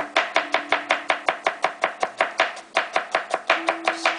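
A knife chops cabbage strips finely on a board in a fast, steady rhythm of sharp, close, loud cuts that carry on without a break, with no voices.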